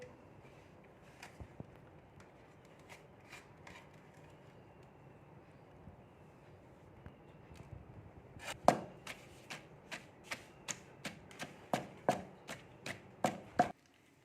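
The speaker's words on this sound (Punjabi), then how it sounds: "ਆਪਾਂ ਹੁਣ ਇਹਦੇ ਵਿੱਚ ਆ ਮਸਾਲਾ ਸਾਰਾ ਕੁੱਟਾਂਗੇ" Spice masala being pounded for a stuffed bitter gourd filling: after a long quiet stretch with faint scattered taps, about a dozen sharp rhythmic thuds strike in steady succession, growing slightly stronger toward the end.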